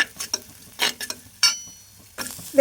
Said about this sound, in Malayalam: ലേശം ഉപ്പ് ചേർത്ത് നമ്മൾ ഇളക്കി കൊടുക്കാം.